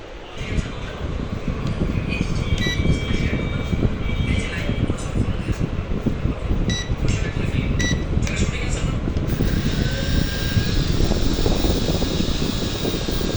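A repaired drone flies nearby, its rotors making a loud, steady whirring buzz with a thin high whine that holds unbroken from start to finish.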